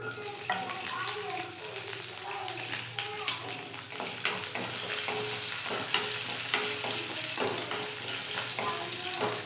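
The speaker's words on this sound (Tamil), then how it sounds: "இஞ்சியும் பூண்டும் போட்டுருவேன்" Ginger and garlic sizzle in hot oil with cumin seeds in a pan, a steady crackling fry with scattered scraping stirs and occasional louder pops, close and continuous.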